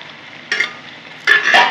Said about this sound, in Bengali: আবারও নাড়িয়ে নেব